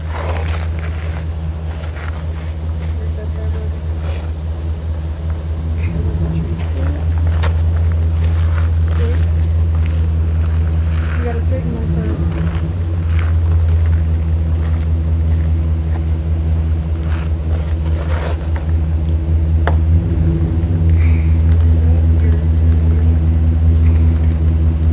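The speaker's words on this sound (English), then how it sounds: "Car's gonna come in soon." A car rolls slowly up and into an RV, its steady low engine rumble holding close and loud throughout, with faint bumps and shuffling footsteps over the drone.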